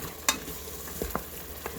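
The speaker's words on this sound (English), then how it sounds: "about halfway through the 2 minutes with the garlic, you want to give it another really good stir" Garlic frying and being stirred in an Instant Pot for a beef and chorizo chili, a quiet sizzle with a few brief scraping knocks.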